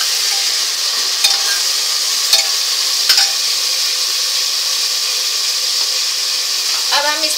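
Mutton pulao masala is stirred in a pot, a steady sizzling hiss with a few sharp clinks of a spoon against the metal, close up and without talk.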